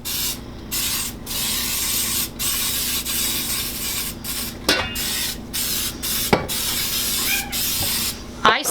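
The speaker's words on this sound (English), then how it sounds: "I'm going to spray my bundt pan really well." Cooking spray hisses into a bundt pan in a home kitchen, several separate spray bursts of varying length separated by short pauses, close and fairly loud.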